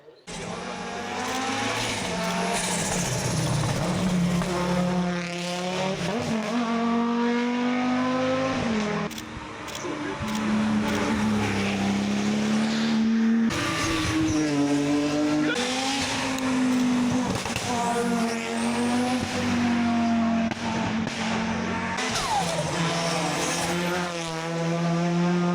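Race cars roar past on a town street circuit at the Glasbachrennen, engines loud and continuous with rising and falling pitch as they accelerate and pass close by, one car after another.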